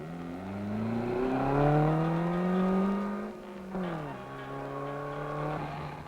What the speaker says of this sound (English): He is driving a Peugeot 404